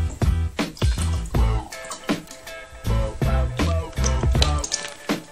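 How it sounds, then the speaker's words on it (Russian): Vinegar is poured over an egg in a mug, giving a close series of splashing, dripping liquid bursts in uneven pulses, loud and near, with no talking. "И далее берем и заливаем это все уксусом."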